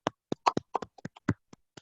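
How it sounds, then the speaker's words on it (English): A small handful of separate hand claps at a Toastmasters club meeting, sparse and irregular, about a dozen sharp close claps within two seconds with no talk. "Can we please give him a round of applause?"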